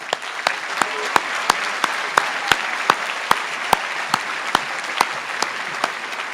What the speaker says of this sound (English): Let's give that first group all a round of applause